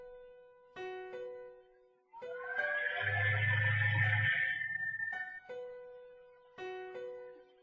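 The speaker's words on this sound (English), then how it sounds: "Piano has a simple reverb." Piano notes ring out in spaced chords with a washy, echoing tail from the stock FL Studio reverb, joined midway by a denser swelling synth-like layer and a low buzzing tone.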